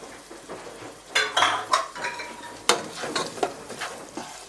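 Finely chopped ginger and garlic clatter into a pan with onions, with sharp utensil scrapes and pan knocks over a faint sizzle, loud bursts in the middle and irregular stirring clinks after.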